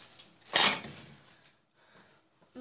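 A spoon stirs sugar in a bowl for brioche dough, making one short, bright clatter of metal against the bowl, followed by faint scattered ticks and near quiet.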